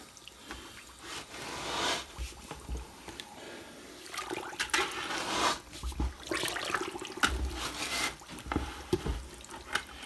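Liquid sugar syrup for bees being mixed in a container, with air let out through a bottom tap; wet sloshing, rubbing and gurgling sounds come and go in uneven bursts, close and fairly soft.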